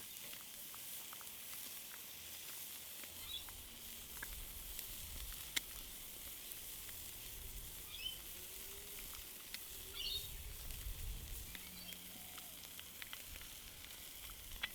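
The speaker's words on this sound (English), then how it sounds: "Now place your patty over the charcoal." A burger patty sizzles steadily over a charcoal grill, a soft continuous hiss and crackle with faint pops, heard alone at low level throughout.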